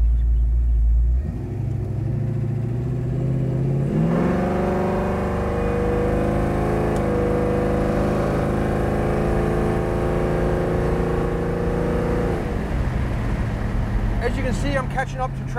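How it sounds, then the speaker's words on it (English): A 1967 Ford Mustang Fastback with Flowmaster exhaust accelerates on the road, its V8 rumble climbing in pitch as it pulls through the revs, then holding at a steady cruise before easing off, loud and close. "it gives the car a nice rumble out of the Flowmasters."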